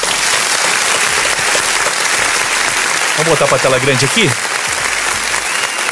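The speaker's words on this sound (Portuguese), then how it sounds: "A salva de palmas aí." Loud, continuous audience applause fills the room at a talk-show recording, with someone speaking briefly over the clapping partway through.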